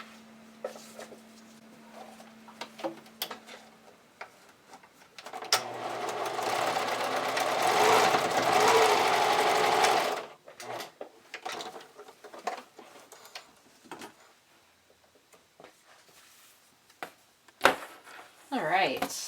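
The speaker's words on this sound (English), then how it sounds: "you can zigzag stitch across here to anchor it in place" A sewing machine runs a steady zigzag stitch across a bra band for about five seconds, loud and close, with brief talk and small handling noises before and after.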